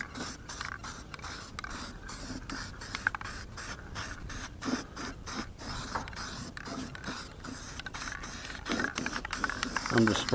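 Repeated short hissing bursts of an aerosol spray can, near and fairly loud, with a voice talking intermittently underneath.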